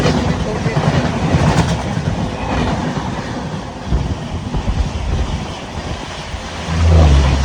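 The Tatanagar–Howrah Steel Express rolls along with a continuous loud rumble and rhythmic clatter of wheels over rail joints, a heavier low surge near the end, with voices faintly mixed in.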